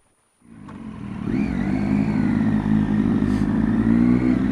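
Triumph Tiger XR XCx motorcycle starting up near and loud, then revving and pulling away on Gates Pass Road, its engine building to a steady, strong drone.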